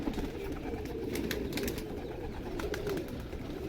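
Racing pigeons coo in a loft, low throaty calls repeating over a steady murmur of birds, with a few sharper chirps or wing sounds breaking through now and then, fairly close and without talk.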